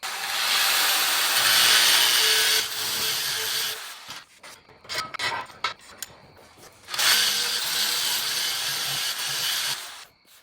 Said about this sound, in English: I clamped the 2 pieces together while I found my hole locations and drilled the holes